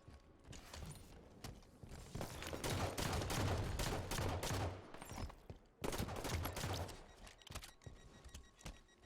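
Dense bursts of rapid automatic gunfire from the Halo video game, on the Havoc map in Coliseum Slayer, crackle almost continuously, with a brief lull near the middle before the shooting resumes.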